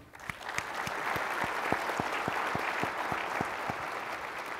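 Audience applause at a trade and economics conference as a panelist is welcomed, steady and dense clapping from a large room throughout, with no talking over it.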